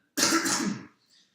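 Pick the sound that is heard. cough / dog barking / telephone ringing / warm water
cough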